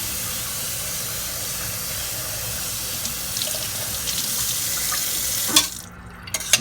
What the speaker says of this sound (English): Just going to run a little bit of water over them now.